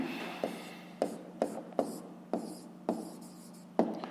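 A pen writes on paper during a fifth-grade maths exercise, with a series of distinct scratchy strokes and taps at irregular intervals and a faint steady hum underneath.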